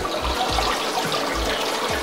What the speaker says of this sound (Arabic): بتصب في الخزان ده نص متر، ومعمولة على شكل دش كده زي ما انتم شايفين